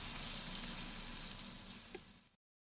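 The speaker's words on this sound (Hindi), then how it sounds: "अब मीडियम फ्लेम पर भिंडियों को हल्का सा कलर चेंज होने तक लगातार चम्मच चलाते हुए फ्राई कर लेंगे" Okra sizzles steadily in mustard oil over a medium flame, a loud continuous frying hiss with a faint spoon touch near the end before it cuts off abruptly.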